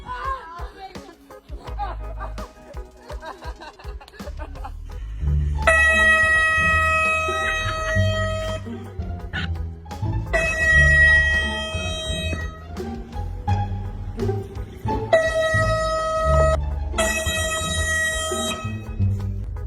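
Air horn blasts from a car-seat prank, sounding as several loud, sustained harmonic honks of a few seconds each with short gaps between them, following a stretch of quieter mixed noise at the start.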